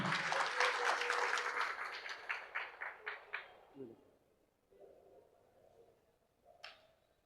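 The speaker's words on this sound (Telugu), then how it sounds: "చప్పట్లతో ఆశీర్వాదం చేయాలని కోరుతున్నాం." Applause from an audience at a tailors' day event, dense clapping that thins into a few scattered claps and fades, followed by quieter background sounds and a short burst near the end.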